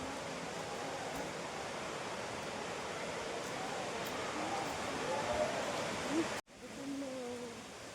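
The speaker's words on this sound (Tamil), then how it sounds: "அருவி சவுண்டு சும்மா எவ்வளோ செம்மையாக கேட்குது பாருங்களேன் காதில்" Talakona Waterfalls in Andhra Pradesh roar as a continuous broadband rush, steady and full, briefly cut off near the end before resuming, with faint voices under it.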